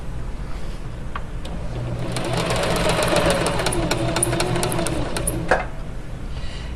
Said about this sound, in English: Now I'm going to sew down this side, but I'm going to change this, the stitch length to 2